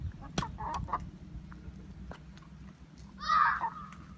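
Backyard chickens feed from a box of collected worms, giving scattered soft clucks and pecking sounds, with a louder squawk near the end, close by under low background noise.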